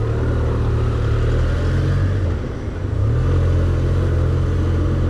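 Tokyo street traffic with a truck and motorcycles: a loud, continuous low engine rumble close by, briefly dipping midway before swelling again, with no voices.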